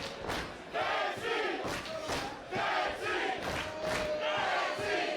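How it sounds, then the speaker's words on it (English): A wrestling crowd in Worcester cheers and chants in loud rhythmic bursts, several surging waves of shouting voices filling the arena, with no commentary over them. "You can hear this crowd in Worcester rallying behind Fancy Ryan Clancy."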